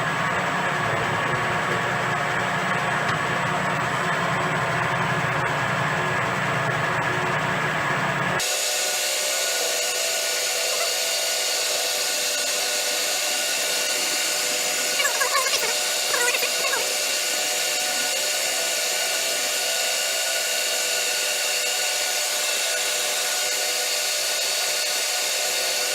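A metal boring machine runs at about 370 RPM while boring a bore, giving a steady, even mechanical whir that continues alone throughout, with a shift in tone early on and a brief faint rattle midway.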